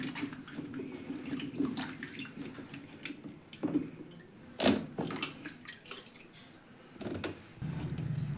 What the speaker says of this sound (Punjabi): ਇਧਰ ਆਪਾਂ ਨੇ ਸਾਰੇ ਅਦਰਕ ਤੋਂ ਛਿਲਕਾ ਉਤਾਰ ਦਿੱਤਾ ਹੈ ਜੀ ਤੇ ਇਹਨੂੰ ਹੁਣ ਆਪਾਂ ਧੋ ਲਵਾਂਗੇ